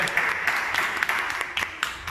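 Theatre-style audience applause for actors, a steady dense patter of many hands clapping with sharper individual claps rising out of it, moderately loud and continuous throughout.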